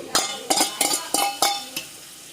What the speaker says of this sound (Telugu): పుదీనాకు కూడా వేసేసాం మొత్తం కలుపుకుంటాం